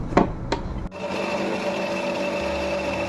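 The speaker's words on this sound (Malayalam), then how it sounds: "അതിലേക്ക് 2-3 ഡേറ്റ്സ് കുരു മാറ്റി അതും ഇട്ട് കൊടുത്തിട്ട് കുറച്ച് പാലൊഴിച്ച് അടിച്ചെടുക്കാം" Two sharp knocks give way to a blender motor that starts up and whirs steadily, blending banana, pitted dates and milk with a close, even, continuous drone.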